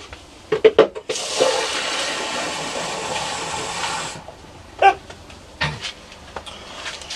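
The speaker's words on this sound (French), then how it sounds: "Donc, je mets un fond d'eau là-dedans." Water gushes into a seed tray for sowing mini soil blocks in one loud continuous pour of about three seconds, framed by close clunks and handling knocks before and after.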